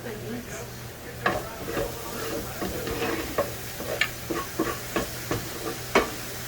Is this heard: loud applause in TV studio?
no